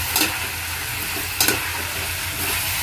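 Potatoes and capsicum with chilli, coriander powder and salt being stirred in a hot pan, a steady close sizzle of frying with two or three sharper scraping stirs of a spoon against the pan.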